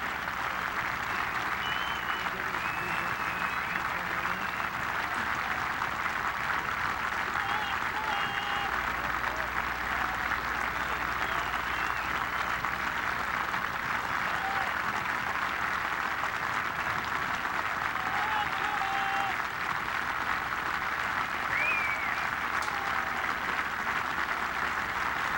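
A Scottish crowd at the Open Championship golf tournament applauding, a dense, sustained roll of clapping from many spectators that holds steady without a break, with faint voices mixed in.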